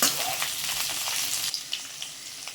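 Okra pieces frying in hot oil, a close, busy sizzle that is loudest at the start and eases off, with a few brief stirring bumps.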